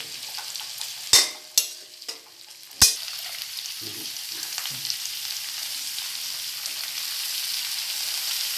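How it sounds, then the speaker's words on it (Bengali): A spatula scrapes and knocks against a frying pan a few times while potatoes sizzle and crackle steadily underneath. "আলুটাকে দিয়ে দিলাম দিয়ে একটু এর সাথে হালকা করে নেড়ে নিলাম"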